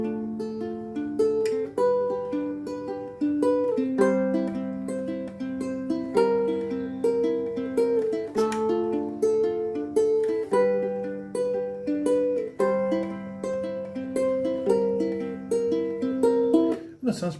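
Plucked ukulele notes pick through a steady chord progression, each chord arpeggiated in an even, repeating rhythm, played alone and close.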